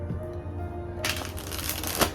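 A deck of tarot cards is shuffled in one quick, close burst of crisp riffling that starts abruptly after a moment of near silence.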